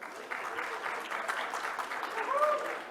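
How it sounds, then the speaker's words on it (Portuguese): An audience at a panel discussion on industrial and innovation policy claps steadily for about three seconds, a dense, even patter of moderate loudness in a hall. "Uma salva de palmas a Marina."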